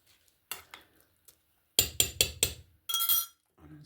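Rice for Cypriot oven-baked rice being mixed in a pot, with a few sharp clinks and a quick run of rhythmic scraping knocks from a spoon against the pot, then a short rattle.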